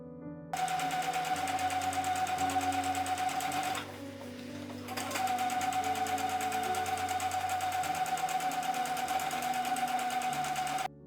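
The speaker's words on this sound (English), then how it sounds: "Press and top stitch." Sewing machine top stitching a denim tote bag, a fast steady mechanical whir running continuously, pausing briefly for about a second midway before resuming at the same even pace, close and fairly quiet.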